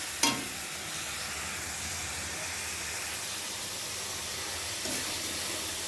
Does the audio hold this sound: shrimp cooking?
yes